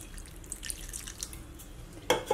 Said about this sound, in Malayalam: ഇതിലേക്ക് ഞാനിപ്പോൾ ഒരു ഗ്ലാസ് വെള്ളം ഒഴിച്ചു കൊടുക്കുന്നുണ്ട്